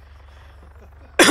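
A single short, sharp cough bursts out near the microphone after a stretch of faint low background hum, during ArmA 3 military gameplay.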